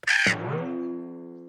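A cartoon crow gives a single loud, harsh caw, followed by a long sustained tonal ring that slowly fades away.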